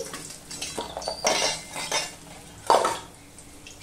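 Fried lentil dumplings lifted out of hot oil into a bowl with a utensil: metal clinks and scrapes against the pan and bowl, a few distinct knocks and rattles, close and unaccompanied by talk.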